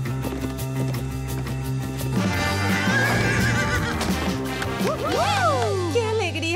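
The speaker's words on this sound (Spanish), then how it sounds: "este es mi caballo Tawny." A cartoon horse in a Barbie show lets out a loud, close neigh with a rising and falling whinny, following a stretch of music-like tones.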